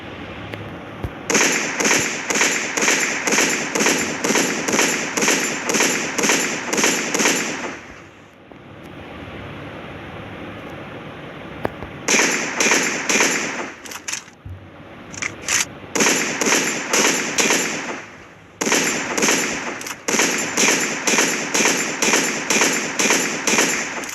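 Rapid bursts of gunfire as enemies shoot at each other in a video game, loud crackling volleys in long runs broken by short pauses, with no talk over them.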